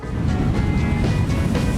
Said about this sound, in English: Hawaiians say it's one of the heaviest waves in the world to surf.